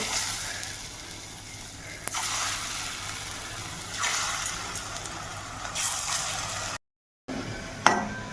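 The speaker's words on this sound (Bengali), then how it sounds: "এখন এইগুলো আমি কিন্তু গোল গোল করে একটু বড়ির আকারে ভেজে নেব" Round lentil fritters with green chilli and salt fry in hot oil, giving a steady close sizzle with occasional louder spitting bursts and a brief dropout near the end.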